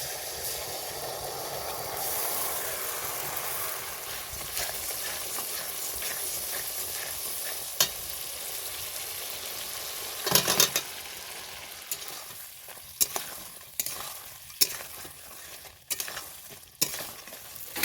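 Spice paste of ground ginger, cumin, green chili and poppy seed fries steadily in oil with a broad, constant sizzle. Later the hiss thins out and a utensil scrapes the pan in close, irregular strokes, with no one talking.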